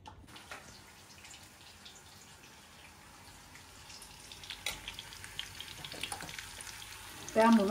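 Espit mushrooms frying in a pan with a little butter give a soft, steady crackling sizzle, faint at first and growing busier with a louder clatter at the end.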